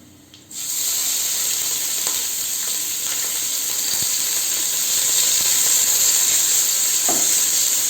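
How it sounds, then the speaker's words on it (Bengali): Small chicken pieces fry in a pan with garlic and onion for chicken soup, a loud continuous sizzle starting after a brief quiet moment, with occasional scraping stirs and clinks. "চিকেন খুব বেশি ভাজার দরকার নেই, হালকা একটু 5 মিনিট নাড়াচাড়া করলেই হবে।"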